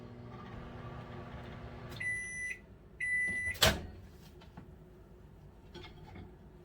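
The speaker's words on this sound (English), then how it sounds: "Microwave for 3 minutes." A microwave oven heating chicken ramen runs with a low steady hum, then a few electronic beeps sound and its door clunks open, followed by quiet handling noises.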